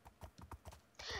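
Horse hooves walking in Minecraft, a quick run of soft clopping steps in uneven rhythm, followed by a burst of brighter noise at the end, fairly quiet.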